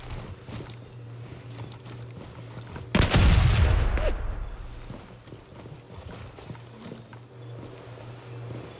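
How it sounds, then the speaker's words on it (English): A grenade thrown in a multiplayer shooter video game bursts into one loud, sharp explosion with a rumbling tail that fades over about a second, standing above a steady background game hum. "I'm gonna throw a grenade outside."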